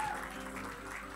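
A church congregation claps in a dense, steady patter, heard from a distance and fairly soft, during a sermon.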